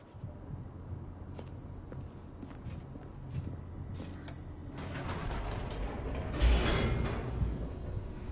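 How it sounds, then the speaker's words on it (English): An elevator descending in The Stanley Parable: low mechanical rumble with creaks and clanks, quiet and steady, swelling into a louder grinding rush near the end. "The elevator raced downward, plummeting towards an unknown fate."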